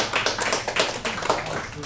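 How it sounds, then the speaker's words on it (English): Applause at a team meeting, a dense patter of clapping hands that keeps going steadily throughout, fairly loud and close. "I don't know if you can hear the applause in the background."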